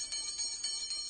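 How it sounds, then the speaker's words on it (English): Bells ringing through an old house, a bright metallic ring with four quick evenly spaced strikes over a sustained high shimmer, faint and fairly distant. "soon it made a very loud sound, and all the bells in the house began to ring too"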